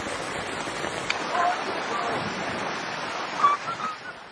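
The flooded Labo River rushes past in a steady, fairly faint broadband roar of churning water, with slight swells in loudness near the end.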